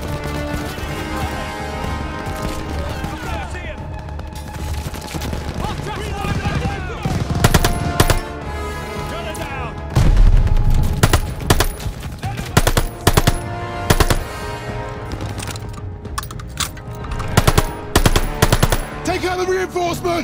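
Heavy machine-gun fire in a Call of Duty battle, long rattling bursts mixed with single shots and crashes over a dense wash of battlefield noise and shouting voices.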